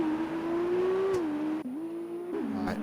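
Formula 2 race cars at Bahrain roar down the straight in a racing video game, with a steady high engine whine whose pitch dips and climbs as the cars shift gears and pass.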